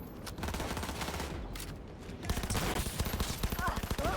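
Gunfire in Cyberpunk 2077 shoots out a vehicle's tire, a rapid string of loud, close shots in quick bursts filling the moment, with game sounds around them.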